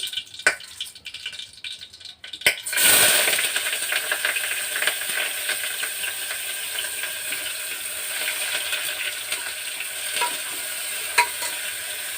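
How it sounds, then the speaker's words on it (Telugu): Rice tipped into a hot pan in a home kitchen sets off a sudden burst of loud sizzling, then a steady frying hiss with scraping stir strokes and light rattles continuing close by, no talking. "ఫస్ట్ రైస్ వేద్దాం"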